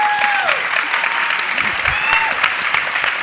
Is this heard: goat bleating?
no